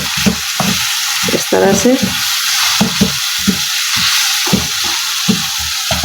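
Onions sizzle and fry in a pan while a spoon stirs them in repeated scraping strokes, the hiss steady and close, with someone speaking briefly over it; keema with green chilies is being cooked.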